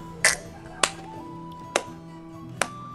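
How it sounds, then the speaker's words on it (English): Four sharp, isolated hand claps ring out at uneven intervals against a low steady hum, close and crisp, inside a Team Fortress 2 game session. "Why are you always clapping like a seal?"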